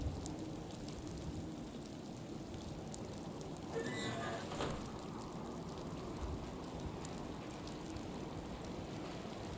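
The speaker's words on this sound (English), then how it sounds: "why does it always rain when I change the time?" Steady rain in the video game Fallout makes a continuous, even hiss that fills the whole stretch, with a faint brief swell partway through.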